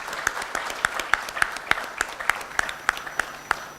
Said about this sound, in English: A big round of applause for Team Samavesh.